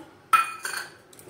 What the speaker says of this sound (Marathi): पूर्ण साखर आपण हे मिक्स करूया